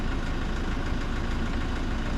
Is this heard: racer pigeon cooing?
no